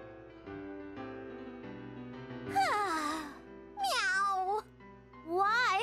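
A voice imitates a cat in the BlazBlue Continuum Shift Extend video game: three drawn-out, wavering meows, rising in loudness, over a low sustained musical backdrop.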